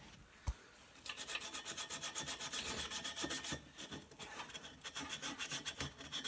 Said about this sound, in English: so I'm going to just sand that quickly.